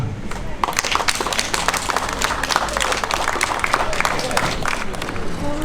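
Loud, dense applause from a large concert audience in a village, sustained clapping with scattered cheers throughout.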